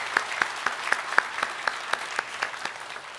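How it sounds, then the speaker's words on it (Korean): A church congregation claps in welcome during a Sunday worship service, a brisk, even burst of applause with regular beats filling the hall, no talking over it. "우리 박수로 환영하도록 하겠습니다"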